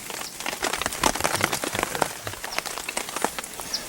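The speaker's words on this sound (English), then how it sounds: "You can hear the pitter-patter of the raindrops." Rain patters steadily on a surface outdoors on a backpacking trip at Lost Maples, with dense, irregular drops landing close by and no voices.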